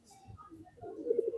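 Domestic pigeons in a loft give soft, low cooing calls, a few rounded pulses that grow louder and more sustained toward the end, close by and alone.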